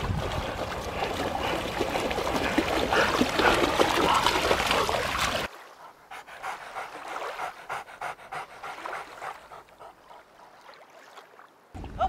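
Dogs pant heavily at a dog beach, a loud, rapid, breathy rhythm up close before cutting to quieter panting with lapping water and outdoor noise.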